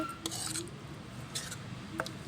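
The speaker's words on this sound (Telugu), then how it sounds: "దీనిలో అయితే నేను చికెన్ కర్రీ వేస్తున్నానండి" Chicken curry ladled over ragi sangati in a dish, heard as a few soft clinks of a spoon against the dish over a low background hum.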